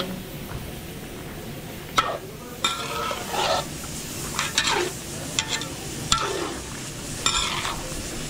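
A pot of stew made with fresh coconut milk bubbles and simmers steadily, with occasional soft pops and light clinks of a utensil against the pot.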